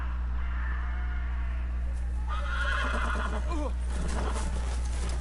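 A horse whinnies in Telltale's Game of Thrones game over steady low background music, with a stretch of hoof clip-clop and a brief murmur of talk.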